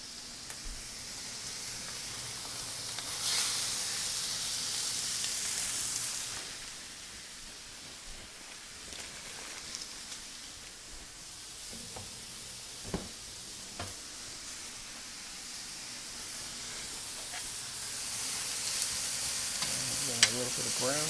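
Food browning on a Chantal stainless griddle over a GE Cafe induction range, with onions cooking; a steady, soft sizzle runs throughout with occasional small pops and clicks, moderately close and alone.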